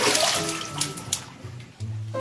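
Water sloshing and splashing in a kennel pool as a rescued seal pup named Cloudberry thrashes, irregular close splashes and drips with a low rumble at the end.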